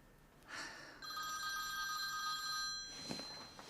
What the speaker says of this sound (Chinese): 这么晚了，谁来的电话呀？